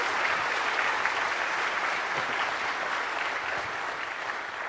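A conference audience applauding, a dense steady wash of clapping from a crowd that holds evenly for several seconds without voices on top.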